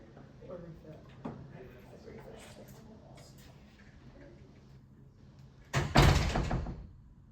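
A door opens and closes during a committee meeting, with a loud, heavy bang near the end following quieter knocks and movement, while people talk faintly in the background.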